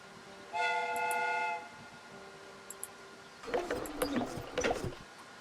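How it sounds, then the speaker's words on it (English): A steady steam train whistle from the video game Crimes & Punishments: Sherlock Holmes sounds for about a second, then quiet, followed by a burst of rattling, clattering mechanical noise. "The steam whistle is ready to be used."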